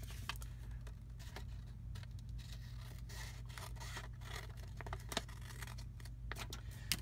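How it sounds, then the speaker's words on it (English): Scissors cut away the flap of a paper envelope in quick, soft, close snipping and rustling strokes, heard over a low steady hum with no talking. "we're just going to cut away this flap"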